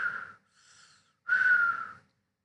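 A voice imitates asthmatic wheezy breathing with two high whistling tones, separated by a quieter breathy pause, close and clear.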